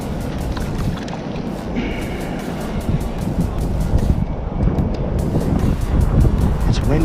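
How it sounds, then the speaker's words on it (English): Strong, buffeting wind roars continuously across the microphone outdoors on a cold day of bass fishing, loud and rough throughout with a faint higher tone briefly in the background. "Windy out today too."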